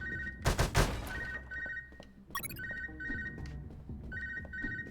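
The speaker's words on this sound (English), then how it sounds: "How do I answer the phone? I want to answer the phone." Telephone ringing in a Half-Life-style video game room, repeated electronic ring bursts in a steady pattern after a loud burst of gunfire-like noise, moderately close amid game ambience.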